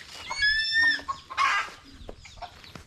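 Chickens cluck and chicks peep at close range, with a couple of bright drawn-out calls and short clucks among quieter farmyard background.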